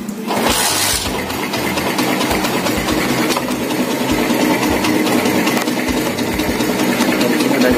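A Yamaha RX2N motorcycle engine runs steadily nearby, a continuous loud idle with a low rumble and slight knocking texture that holds for the whole stretch without talk.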